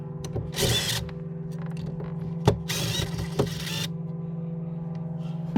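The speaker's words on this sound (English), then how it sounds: "We're using power tools." Two whirring bursts of a power drill unscrewing screws close by, separated by clicks and handling noises over a steady electrical hum.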